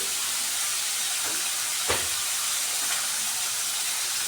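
Onion and ginger fry in a hot pan with a steady, loud sizzle and hiss that stays constant throughout, with a faint clink or two in the middle.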